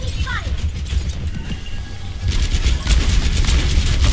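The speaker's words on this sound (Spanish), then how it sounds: "Apenas meten los disparos de Macri" Rapid weapon fire in the shooter game Overwatch, a mechanical clattering burst with sharp repeated shots growing louder toward the end, over busy game noise.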